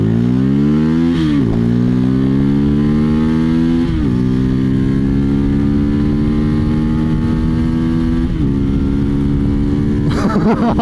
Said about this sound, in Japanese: フルスロットル行きます。